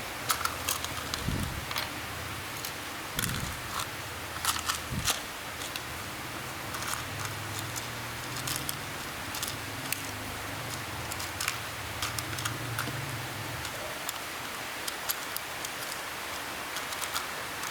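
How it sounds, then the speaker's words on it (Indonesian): Rain patters steadily outdoors with scattered sharp ticks and taps over a soft background hiss, fairly quiet throughout, alongside a low rumble mid-clip and no speech. "Sorry agak berisik loh, hujan di sini."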